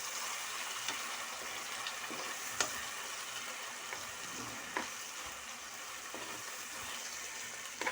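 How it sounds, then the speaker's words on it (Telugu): Ginger garlic paste for chicken dum biryani fries in a pan with a low, continuous sizzle, broken by occasional faint clicks and scrapes of a spoon stirring. Quiet and steady throughout. "అల్లం వెల్లుల్లి పేస్ట్ తిప్పేసుకుందాం."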